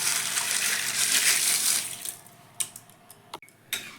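Pasta dropped into a pot of hot water sets off a rushing splash of water, which fades into a few sharp knocks and clatters against the pot.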